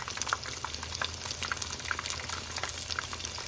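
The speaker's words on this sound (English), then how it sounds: "Okay, so the chicken is frying up pretty well." Busy sizzling and crackling of chicken katsu frying in hot oil, a constant close hiss dotted with small pops.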